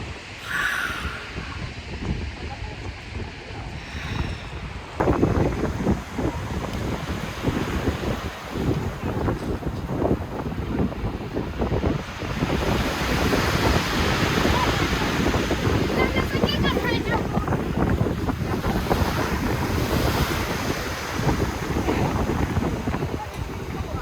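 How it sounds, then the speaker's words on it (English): Waves breaking on the shore at Birling Gap beneath eroding cliffs, with strong wind buffeting the microphone throughout; the surf wash is steady but partly masked by the wind roar. "I just love the sound of those waves"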